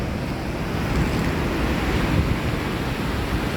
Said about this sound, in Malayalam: അതിശക്തമായിട്ടുള്ള തിരയുമുണ്ട്.